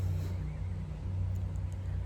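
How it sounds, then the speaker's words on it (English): Steady engine rumble from landscaping equipment working outdoors nearby, a continuous low drone with no talk over it. "excuse the background noise, guys. They're doing landscaping out here"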